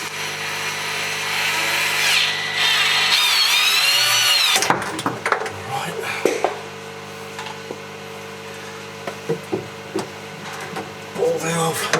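Power tool cutting plastic aquarium plumbing pipe, a loud steady whining buzz lasting about five seconds before stopping, followed by quieter handling clatter and scattered knocks.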